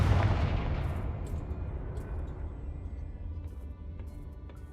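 A Confringo blasting spell cast in the Hogwarts Legacy video game lands as one loud, booming blast that rolls into a long, rumbling decay, with faint crackles and small pops trailing off over several seconds.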